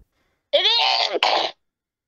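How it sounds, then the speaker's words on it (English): A woman sneezes once, loud and close, a sharp drawn-out burst preceded by a brief inhale, with silence around it. "I sneezed."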